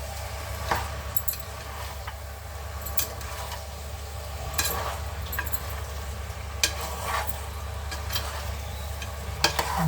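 A curry of freshly pounded spices frying in a pan, a low continuous sizzle under repeated scraping and clinking strokes of the stirring spoon, close by and with no voices.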